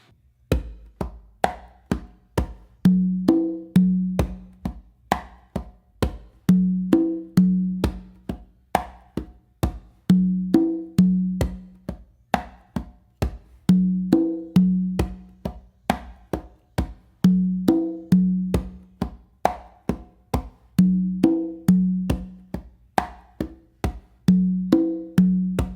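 Bolero rhythm played on two or three congas, a steady repeating pattern of crisp open tones, slaps and deep bass strokes cycling evenly for the whole stretch, close and solo with no voices.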